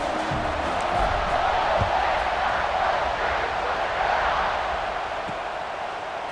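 A large football stadium crowd at an Ohio State versus Michigan game roars before a kickoff, a dense sustained wash of cheering and shouting that stays loud for the whole stretch.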